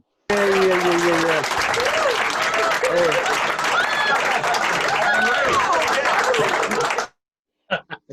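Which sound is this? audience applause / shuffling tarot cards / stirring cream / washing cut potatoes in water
audience applause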